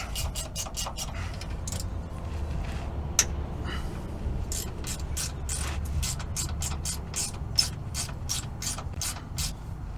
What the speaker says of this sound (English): So I'm going to take our 10 mil here and remove these couple retaining brackets here.